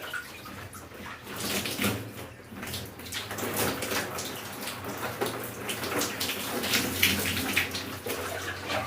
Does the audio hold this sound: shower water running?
yes